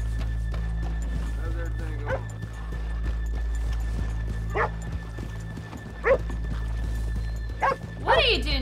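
Horses in the Red Dead Redemption 2 video game give a few short snorts and whinnies with light hoof clops among them, set against steady low game ambience while someone talks throughout.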